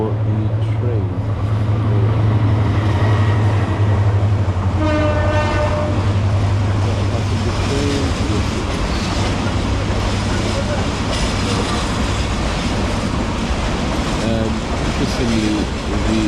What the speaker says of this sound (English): We've had to stop at this crossing for the train.